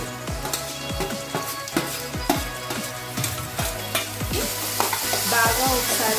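Chopped onions and tomatoes frying in a pan for a radish curry, a continuous close sizzle with regular stirring strokes and spatula scrapes repeating about every half second.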